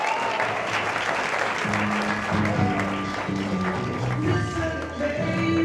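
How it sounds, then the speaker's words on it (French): A crowd at a business awards gala breaks into sustained applause, a thick wash of clapping hands that stays loud and steady, with some tonal sound running faintly underneath. "Une bonne main d'applaudissement pour Michael Parfort."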